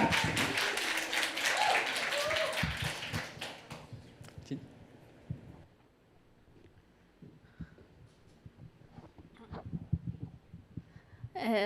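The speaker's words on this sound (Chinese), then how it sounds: "我们用掌声欢迎" A church congregation at a Sunday worship service claps to welcome a young speaker to the stage: dense, close applause for about four seconds that then dies away into quiet room tone with scattered small noises.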